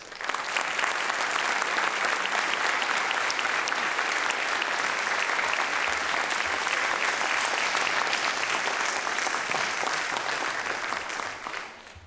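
A lecture-hall audience gives steady, dense applause as the artist Nick Cave is welcomed, staying loud and even for about eleven seconds before it fades out quickly at the end.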